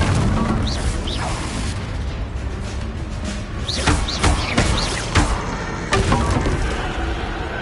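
Confringo and Bombarda spell explosions in Hogwarts Legacy, a dense stretch of booming blasts, cracks and shattering debris hitting in quick succession over continuous rumble, loud and close.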